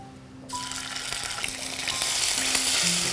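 Cumin seeds hitting hot oil for a tadka burst into a loud, bright sizzle after a quiet half second, and the crackle builds and holds steady through to the end.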